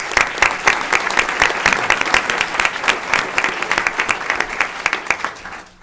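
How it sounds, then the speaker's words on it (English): A crowd applauds steadily at a school district board meeting with dense, overlapping claps that hold strong before fading near the end. "So huge round of applause for our leaders."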